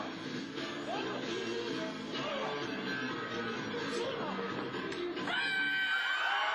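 A crowd cheers and whoops at a karate match, with yells and bellows rising over a steady roar. The noise stays fairly distant and carries on across the whole stretch, swelling slightly near the end.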